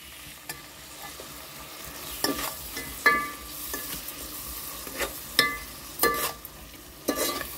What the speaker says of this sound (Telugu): లైట్గా కలుపుకోవాలి